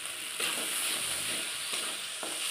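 Ginger, cumin and red chilli paste frying in hot oil for a meatless dish, a steady close sizzle with soft stirring scrapes and brief surges, no talking.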